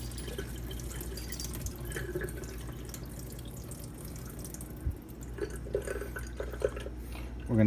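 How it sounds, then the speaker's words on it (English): Water drains out of a jar of sprouting broccoli seeds, a faint, steady trickle with small drips, followed by a brief louder splash at the end. "drain the jar"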